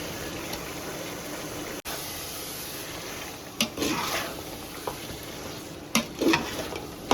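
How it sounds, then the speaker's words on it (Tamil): Chicken sautés with onion and tomato for chicken biryani, giving a steady close sizzle. A few louder scrapes and stirring bumps of a utensil in the pan rise above it, with no talk. "சிக்கனை எடுத்து நல்லா போட்டு நல்லா வதக்கிக்கலாம்"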